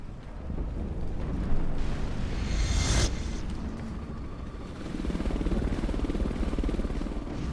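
A helicopter in the video game Metal Gear Survive, heard as a steady, loud rotor and engine rumble with a sharp burst near the middle and wind-like noise throughout.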